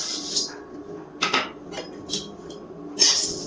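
Whole cumin, coriander, dried chillies, cardamom, cloves, peppercorns, poppy seeds and cinnamon dry-roast in a pan over a medium gas flame, giving several short bursts of rattling and scraping with quieter pauses between.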